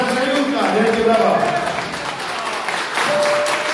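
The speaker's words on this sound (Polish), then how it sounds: "improwizacja Julka, wielkie brawa" Audience applause at a Valentine's concert in a municipal culture house: dense, steady clapping from a crowd filling the room, with voices mixed in beneath it.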